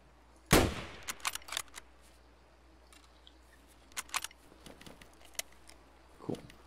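Escape from Tarkov gunfire: one loud sharp shot followed by a few scattered quieter shots and clicks spread across the stretch, with low background noise and no talk.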